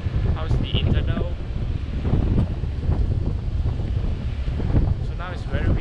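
Heavy wind buffets an action camera's built-in microphone in a constant low roar, with faint voices and what may be surf underneath.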